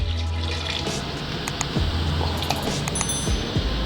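Water pours steadily into a grinder bowl holding soaked dosa batter ingredients, a continuous close splashing gush that lasts the whole moment.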